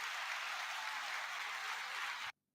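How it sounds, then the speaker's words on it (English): A burst of dense recorded applause plays back evenly for about two seconds, then cuts off abruptly into silence. "There you guys get the hand clap today."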